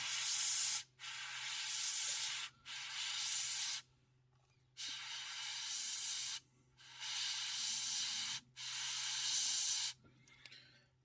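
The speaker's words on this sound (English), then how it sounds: "all I'm doing is just again random spraying in the panels" Airbrush spraying paint onto the panels of an ICM 1/35 CH-54A Tarhe helicopter model, heard as five steady hissing bursts of a few seconds each, separated by short pauses, close and fairly loud.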